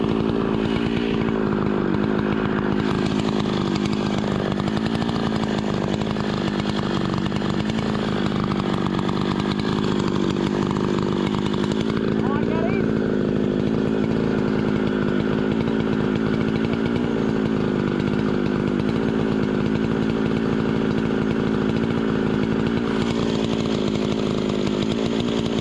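A chainsaw bucks a veneer log from a felled tree on a hillside, a loud, close, continuous engine snarl with slight pitch shifts as it works through the wood.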